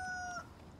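Chickens in the DayZ video game, set on the Namalsk map, give a brief clucking call near the start of a short moment of game ambience.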